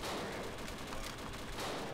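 Dense gunfire in the shooter game Dino D-Day forms a loud, continuous burst of overlapping shots with no pause for the whole short stretch.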